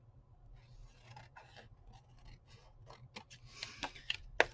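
Teflon-coated scissors trim a paper file folder, giving a run of soft rasping snips that grow into sharper, louder cuts toward the end, close by and alone.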